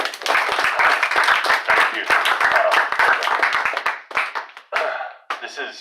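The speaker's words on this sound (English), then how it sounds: "I think we can give him a big applause" Applause and clapping from an audience welcoming former NBA player Brad Branson at Academia Sanchez-Casal in Florida, a dense rattle of many hands that thins toward the end, with a voice speaking over it.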